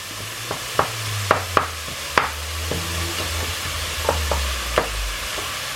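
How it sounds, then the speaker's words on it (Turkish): Ground meat for a bolognese sauce sautéing in a little oil, a low sizzle broken by sharp, spaced spatula scrapes and taps against the pan, close by over a faint low hum. "Şöyle bir yandan etimi kavuruyorum. Az bir şey yağ koydum."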